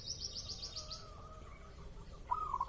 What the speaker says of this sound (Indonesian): pancing dengan perkutut ini bos, dijamin semuanya ngikut manggung bos